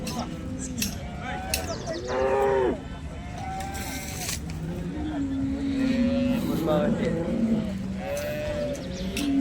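Cattle low and bleat repeatedly at a busy Sangola cow market, several calls rising and falling over crowd murmur and people talking nearby.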